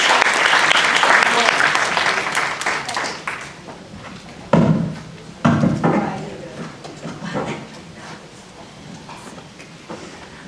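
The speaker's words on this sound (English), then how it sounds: "Give these folks a round of applause." An audience claps loudly at a community alliance meeting, a dense burst of applause that starts strong and fades over several seconds, with a few louder isolated claps and scattered voices near the end.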